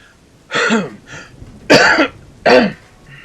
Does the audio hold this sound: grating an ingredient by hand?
no